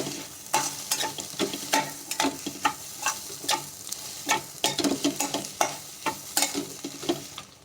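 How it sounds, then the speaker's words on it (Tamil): Mutton sautés with garam masala in a pan for kothu parotta, with rhythmic bursts of close stirring and scraping over a soft, continuous sizzle. "இந்த டைமில் வந்து கொஞ்சோண்டு கரம் மசாலா சேர்த்துக்கிறேன். சேர்த்து அதையும் நல்லா வதக்கிக்கலாம்."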